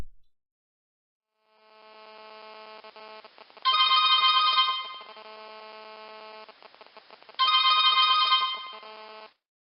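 A mobile phone rings with an incoming call placed by an SOS alarm device, a melodic ringtone starting softly and swelling in two loud bursts, clear and close with no talking.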